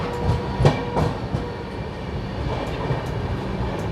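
Ranthambhore Express pulling out of Kota Junction, a steady rumble of rolling coaches with irregular wheel clacks over rail joints, close and continuous with no talk.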